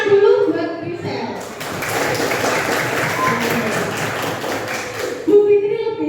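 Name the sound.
class clapping for a student, Grisel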